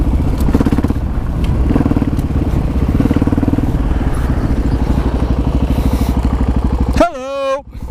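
A 1985 Honda XR350R motorcycle engine running close by with a rapid, loud, chugging thump, then abruptly stalling when the clutch is let out, followed by a brief voice.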